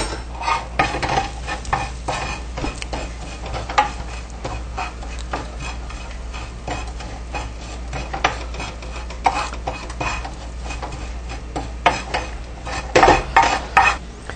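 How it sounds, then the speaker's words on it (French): Rice, asafoetida and other ingredients for royal rice being stirred together in a cooking pot, with repeated spoon scrapes and clinks against the metal and a low steady hum underneath. "On mélange tout."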